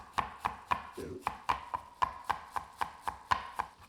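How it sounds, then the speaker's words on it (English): Fresh parsley is chopped with a knife on a board, about a dozen crisp, evenly spaced chops, close and fairly quiet. "just gonna chop this parsley down really nice"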